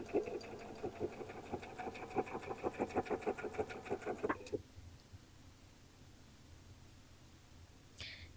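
Sewing machine stitching binding onto a quilt, a quick steady run of close needle strokes that stops suddenly after about four and a half seconds, followed by quiet room tone and one faint click.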